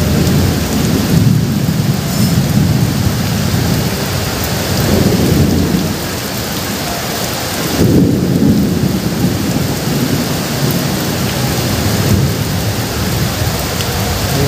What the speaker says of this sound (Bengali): বিভিন্ন প্রান্তে এই প্রবল বৃষ্টি শুরু হয়েছে।